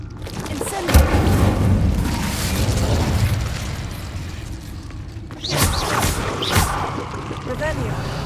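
A whooshing burst of fire from an Incendio spell cast in Hogwarts Legacy, with a deep thumping boom near the start and a second roaring surge midway, under a loud rumbling battle mix.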